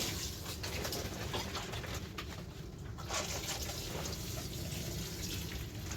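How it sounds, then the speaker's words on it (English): Water poured by hand from a container over trays of wheatgrass in a growing area: a continuous splashing, trickling wash close by, with birds chirping faintly in the background. "I'll go ahead and water everything else in here right now"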